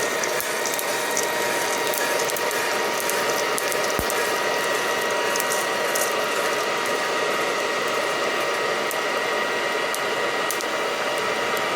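Coffee beans, a Mocha Java and Java Old Brown, are still cracking after roasting in an Aillio Bullet R1 v2. Small faint crackles sound under a constant loud rush of fan noise.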